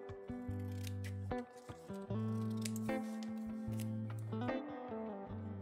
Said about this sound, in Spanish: Vamos a recortarlo bien por el borde, bien bien por el bordecito.